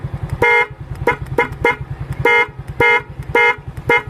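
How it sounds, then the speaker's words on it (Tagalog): A loud aftermarket horn on a Honda Mio i 125 motorcycle sounds its first tone, a series of short blaring honks in an uneven rhythm over a fast idling engine putter, close and alone. "ito yung unang tunog."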